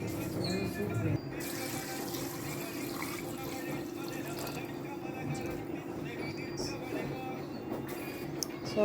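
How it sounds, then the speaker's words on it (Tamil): Water from two pots poured into a pressure cooker while making mukuruntai greens soup in a home kitchen, a steady splashing pour running throughout at moderate level. "நான் வந்து 2 சொம்பு தண்ணி ஊற்றுறேன் இதுக்கு."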